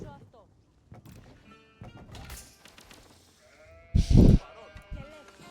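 Several sheep bleat in the real-time strategy game Age of Empires IV, scattered short calls with one loud, close bleat near the end, alongside game interface sounds while a player talks.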